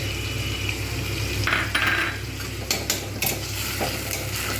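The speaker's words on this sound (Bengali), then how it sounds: "ভালো করে মশলাগুলো কষিয়ে নেব। এতেই দেব আদা রসুন পেস্ট।" Spices and ginger garlic paste sautéing in a pan, a constant low sizzle broken by several scraping stirs and light metallic clinks of a spoon, close by, without talk.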